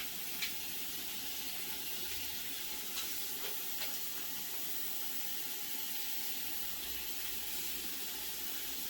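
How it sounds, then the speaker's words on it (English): Hands being rinsed under a running tap, a steady close hiss of flowing water that continues evenly throughout with no talking. "I'm going to rinse my hands thoroughly."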